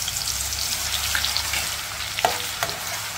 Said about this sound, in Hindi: बिल्कुल कुछ सेकेंडों के लिए इसको फ्राई होने देंगे,